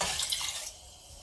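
Water poured into a brine of white vinegar for pickled banana peppers, a short splashy trickle that is loud at first and then thins into a quieter, sloshing flow, with no voices.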